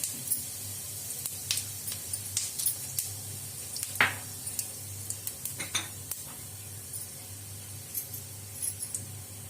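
Cumin seeds and black pepper, with cinnamon and cloves, sizzle in hot oil in a pan, a soft steady crackle broken by scattered clinks of a utensil against the metal, close and fairly quiet.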